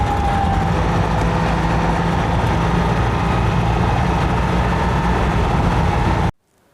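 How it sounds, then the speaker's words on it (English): A Citroën 2CV's small engine runs at a steady idle, a continuous low mechanical drone heard close up, which cuts off abruptly into near silence at the end. "Might be time to re-engage engine."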